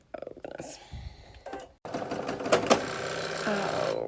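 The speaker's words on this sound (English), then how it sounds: "it stitched out that second stitch" An embroidery machine stitches letters onto sequined fabric for an embroidered crewneck, a rapid, steady mechanical chatter that starts after a few scattered clicks and a brief pause and runs continuously close by.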